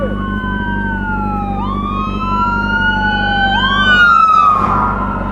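Ambulance siren with a police escort passing on a road, a loud wailing tone sweeping up and down repeatedly over a steady low engine rumble, growing a little louder as it nears.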